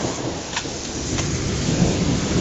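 Low rumbling thunder from a hailstorm approaching Norfolk, Nebraska, heard as a steady, loud roar with rain hiss layered over it and no voices.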